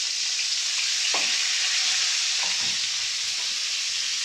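Sizzling frying of duck eggs with bean seeds and turmeric spices in a pan, a steady bright hiss throughout with a few soft scraping stirs of a spoon, close and alone without talk.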